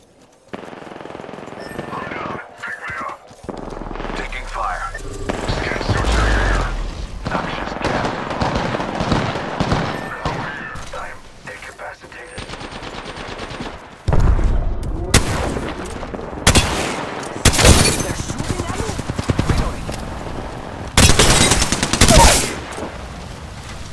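Gunfire in the video game Apex Legends: loud bursts of rapid shots, scattered at first and then dense, heavy volleys near the end, with game sounds running throughout.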